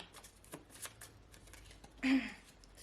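A deck of reading cards shuffled close by during an oracle card reading, with soft riffling and several light slaps of the cards, including one louder burst near the end.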